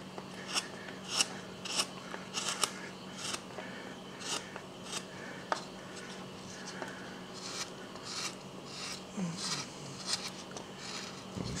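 A sharp small number 9 wood carving gouge cuts into wood on a carved cowboy bust, giving a series of quiet close scraping and slicing strokes in an irregular rhythm.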